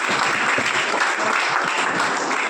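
A crowd applauds college NCC cadets at a police thank-you event in Badvel, dense continuous clapping from many people, loud and even for the whole stretch, with no talking.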